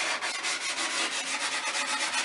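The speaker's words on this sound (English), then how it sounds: "I'm just going to use some sandpaper to clean up the edges here" Sandpaper rubbing back and forth along the freshly cut wooden edges of a bagatelle board, a steady close scratchy hiss with rhythmic strokes and no talk.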